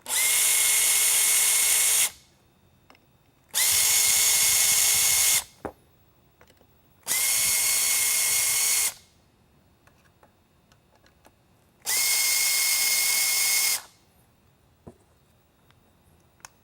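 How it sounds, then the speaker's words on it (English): Power drill backing screws out of a Whelen Pioneer SlimLine worklight housing in four separate whirring bursts of about two seconds each, with quiet clicks and handling noises between them. "I'm going to go ahead and remove 4 screws that affix that to the inner cast housing and diode board assembly."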